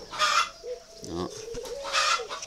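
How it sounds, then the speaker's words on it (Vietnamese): Spotted doves coo in soft, close, low-pitched calls that repeat in a rolling rhythm over about two seconds, with no voices. "Một đôi chim này rất là đáng yêu."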